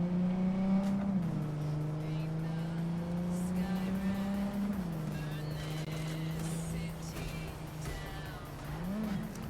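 A car driving in the video game Cyberpunk 2077, its engine holding a steady hum with slight shifts in pitch as it accelerates, alongside music and faint background sounds.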